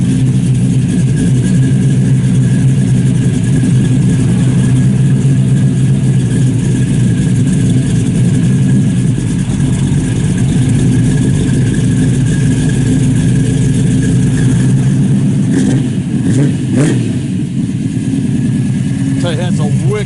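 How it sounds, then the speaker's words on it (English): A 1967 Pontiac Tempest resto-mod idles steadily, its throaty exhaust rumbling through a 3-inch system with Flowmaster 50 series mufflers, loud and close, with a couple of brief revs near the end. "Nice throaty exhaust out the back of the 3-inch. It's got Flowmaster 50 series mufflers,"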